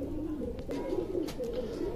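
Domestic pigeons kept in a loft coo in low, steady, throbbing calls that overlap throughout, close and continuous, with a few brief clicks and rustles on top.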